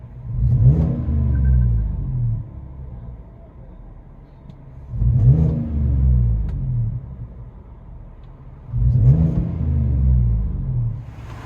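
Inside the cab of a Chevy Silverado Punisher Edition pickup fitted with a Flowmaster Super 10 exhaust, the engine revs three times, each a deep rumbling surge that swells and settles back to a steady low idle drone.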